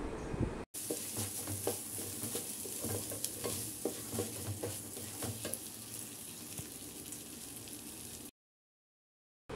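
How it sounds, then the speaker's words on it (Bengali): Pulao rice fries with salt in a hot pan, a steady close sizzle broken by repeated scraping stirs of a spoon, with no talk; it ends in a short silence. "লবণ দিয়ে আর কিছুক্ষণ ভেজে নেব নেড়ে চেড়ে পোলাও চালটা"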